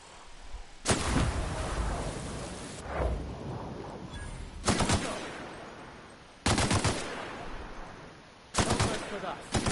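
A heavy weapon fired in Outer Worlds 2, four loud booming bursts of gunfire spaced a couple of seconds apart, each with a short rumbling tail, close and forceful.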